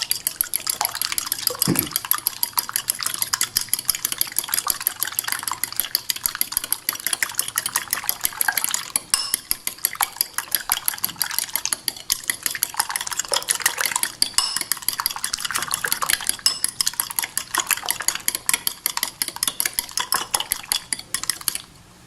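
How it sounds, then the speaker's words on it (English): Eggs for an omelet are whisked in a bowl with a utensil, a fast, steady rattling clatter against the bowl that runs nearly nonstop at close range and fairly loud, with no talking. "And then we just mix up the eggs"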